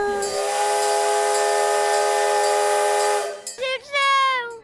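A miniature steam railroad's whistle sounds as a loud, steady, close blast for about three seconds, followed by shorter wavering whistle toots.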